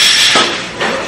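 Knife or scissors cutting Busan milmyeon noodles, heard as two sharp chopping snips about half a second apart, close and fairly loud, with no talk over them.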